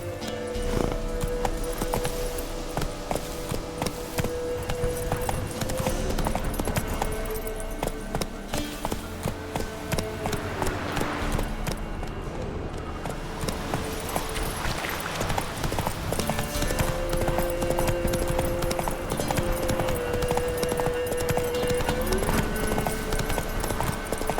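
Roach, a horse in The Witcher 3, gallops with steady, loud clip-clop hoofbeats throughout, layered over game music and ambience, with a brief voice urging it on.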